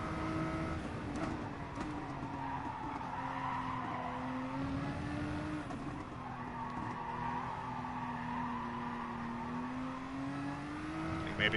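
Tires squeal and skid under locked brakes in GT Sport, a long wavering screech riding over a steady race-car engine drone, close and continuous throughout.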